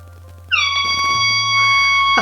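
An air horn sound effect blares from a Mebo 2.0 robot toy, a sustained bright tone that starts abruptly and holds for well over a second, loud and close over a low background hum.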